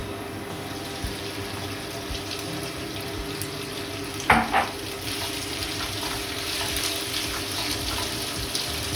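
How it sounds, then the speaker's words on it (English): Prawns frying in a pan of garlic oil that is just starting to brown: a steady close sizzle throughout, with a brief clatter and burst near the middle as they drop in. "So let's whack the prawns in."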